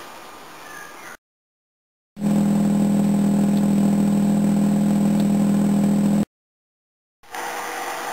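An NSU car engine running warm with a strange noise, heard as a loud steady droning hum with a strong low tone, broken by two abrupt silent gaps between sections of quieter engine sound.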